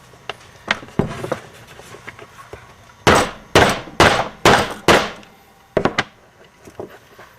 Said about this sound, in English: and then we'll use our hammer